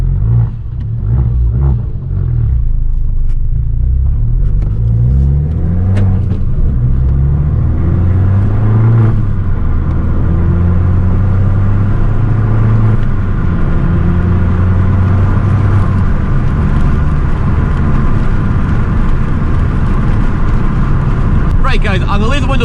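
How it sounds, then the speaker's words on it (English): Fiat 595 Abarth 1.4 turbo petrol in sport mode on back roads, heard with windows down: a loud, close engine and exhaust drone that climbs repeatedly in pitch through the gears, with turbo whir layered over steady road rumble. "I'm going to leave the windows down so you can hear all the exhaust noises and the turbo noises"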